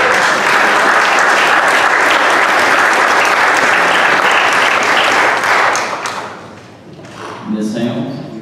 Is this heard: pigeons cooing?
no